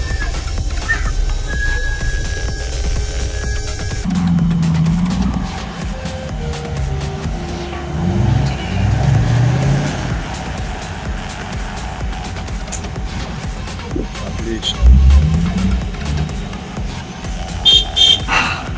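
A GAZ-66 truck engine is revved with double-clutching as a gear is engaged, giving a loud, continuous low rumble with rising and falling revs and clanking mechanical noise.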